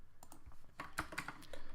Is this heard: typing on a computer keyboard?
yes